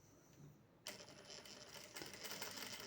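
A sewing machine stitches a seam on a baby bath towel, starting as a quiet, brief whirring burst after a short pause and running on to the end.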